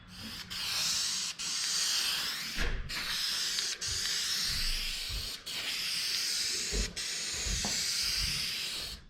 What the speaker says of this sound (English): So now I'm going to throw some clear coat over these lines so I don't just rub them off